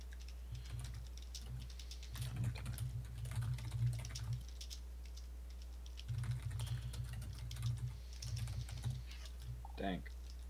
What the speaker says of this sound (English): Sorry, I hear a lot of typing